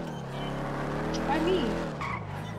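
Bugatti car in a racing game with engine drone and a brief tire squeal mid-clip, close and steady, while people talk over it.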